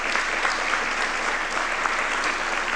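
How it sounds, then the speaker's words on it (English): Steady, dense applause from the audience at the Oxford Generative AI Summit 2023 keynote, a uniform wash of clapping throughout with no speech. "Another huge round of applause for everybody involved in making this possible"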